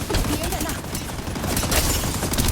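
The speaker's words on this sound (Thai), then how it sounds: "โอ้ผมยิงไม่โดน" Dense, continuous gunfire from a shooter game, High Energy Heroes, with shotgun blasts mixed into a busy, loud wash of rapid shots; voices murmur faintly beneath.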